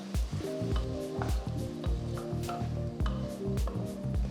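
Soaked dal being stirred together with sautéed vegetables in a pot, giving close wet squishing and scraping with light sizzling underneath, in a loose repeated stirring rhythm and no talking.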